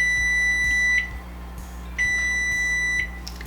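Repeated electronic beeps from an oven timer in a kitchen while a keto quiche bakes, two sustained tones each about a second long with a pause between, loud and close with no talking.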